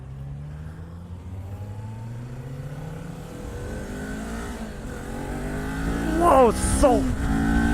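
A 2018 Kawasaki Ninja 400 sport bike engine revs up steadily with rising pitch, loud and close, ending in quick throttle blips as a rider speaks over it.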